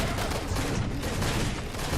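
Gunfire in a video game, a dense burst of shots and crackling blasts in close succession that keeps up loudly through the whole stretch, with no talk over it.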